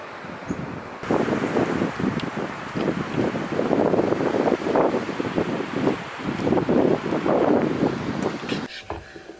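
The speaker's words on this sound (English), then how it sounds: "Winds are sustained at about 35 miles an hour" Strong Minnesota wind, sustained around 35 miles an hour and gusting to 50, roars outdoors in loud, surging gusts that batter the microphone almost continuously, with no talking.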